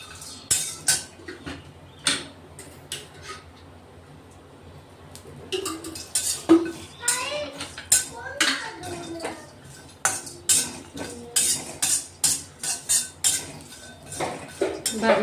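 Spices for a Khandesh-style black mutton masala dry roasting in a pan with a little oil, heard as frequent metal-on-metal scrapes and clinks of a spatula stirring, close and steady throughout, with no voices.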